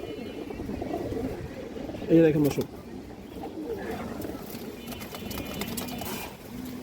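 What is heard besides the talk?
female pigeon cooing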